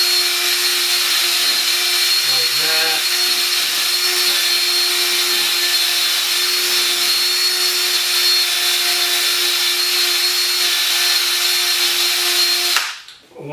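A power drill with a buffing attachment spins steadily and loudly while buffing polished shoes, a continuous high whine that cuts off abruptly at the end.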